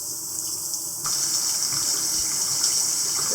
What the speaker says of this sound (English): Rinse the glove off.